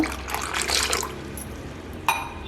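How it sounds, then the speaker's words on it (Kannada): A little water from a small glass is poured into a mango and mint mixture, giving a short splashing trickle for about a second, then a faint clink and quiet. "ನೀರು ಹಾಕ್ಕೊಳ್ಳೋ ಸ್ವಲ್ಪ"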